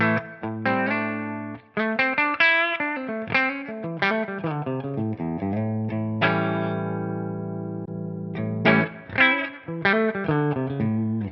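An electric guitar plays with a clean tone through a Tonex amp and cabinet capture. Short melodic phrases and ringing chords are clear and alone, with a longer sustained chord midway and no talking.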